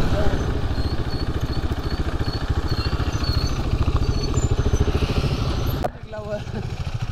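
A motorcycle engine idles nearby in a fast, steady chugging pulse, loud and continuous, then drops off abruptly near the end as it is switched off.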